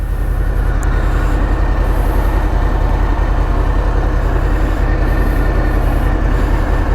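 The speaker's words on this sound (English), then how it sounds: "just started the bike, giving it a little bit of a warm-up" A Harley-Davidson Fat Boy motorcycle engine warms up at idle, giving a loud, steady low rumble that continues without a break and with no voices.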